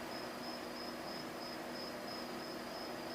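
Nighttime crickets in a flight simulator scene, a steady high chirping trill pulsing continuously over a faint hiss of ambient noise, with no voices.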